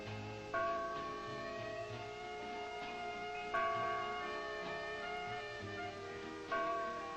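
A church bell tolls in a slow, regular rhythm, each strike blooming with a rich, ringing hum that decays before the next; distant and steady with no talking.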